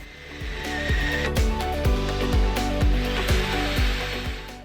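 A power drill whirs steadily overhead, its motor pitch wavering with repeated rhythmic knocks as it bites into material while fitting a flush bolt.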